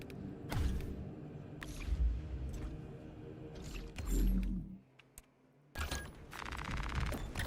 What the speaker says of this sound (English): Heavy bolt rifle.